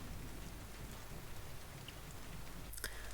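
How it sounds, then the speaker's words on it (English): Rain beats steadily against large windows in a dense, even patter, and a brief louder rumble of thunder rolls in near the end. "There was silence then, broken only by the rain against the large windows and the rolling thunder."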